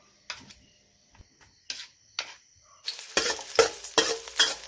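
Instant noodles get tossed in oil in a pan, with sparse scraping strokes at first and then a denser run of rhythmic stirring scrapes over a rising sizzle.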